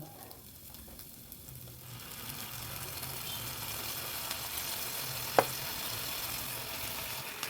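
Browned onions fry in a pan for honey chilli paneer as tomato sauce goes in. A steady, moderate sizzle swells after a quieter start, with one sharp click partway through.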